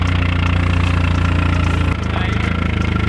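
Vehicle engine idling roughly through a flex-pipe exhaust, a loud, steady throbbing chug that shifts slightly lower partway through, with talk over it.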